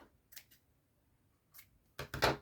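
Scissors trimming a small paper craft gift box, a few quiet snips, one near the start, another after a pause, then two sharper closer cuts at the end.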